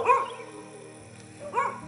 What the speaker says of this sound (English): oh no, we got some dogs on a road walk